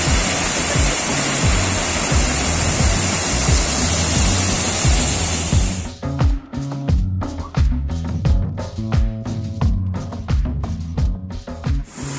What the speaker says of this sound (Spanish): hemos llegado a esta cascada, mis queridos amigos.